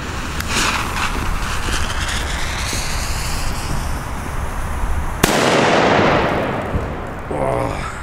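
A grey Kanonenschlag firecracker goes off with one sharp, loud blast, preceded by steady wind and background noise, and a long rumbling decay and echo follow the bang.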